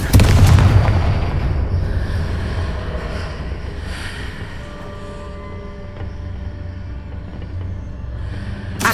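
Confringo blasting spell exploding in Hogwarts Legacy, a heavy booming hit at the start that decays into a long low rumble, leaving quiet ambient game sound and a faint thump at the very end.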